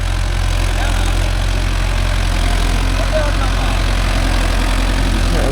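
A Mahindra Yuvo Tech Plus 585 4WD tractor engine runs steadily and loud throughout, a continuous low diesel drone as it works a field pulling a five-tine cultivator, with faint voices underneath.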